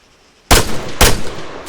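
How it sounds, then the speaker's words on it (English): Two sharp, loud gunshots about half a second apart ring out in ARMA 3, a military video game, each with a long echoing tail and no talk over them. "When you're ready, put some rounds down range."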